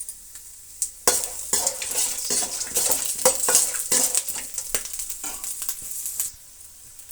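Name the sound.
mustard seeds, chana dal and peanuts frying in a pan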